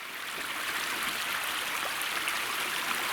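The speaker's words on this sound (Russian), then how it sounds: "По пути встретился ручей" A steady rush of a clear stream along a spring river route, continuous and fairly close, with a bright, even babble and no voices.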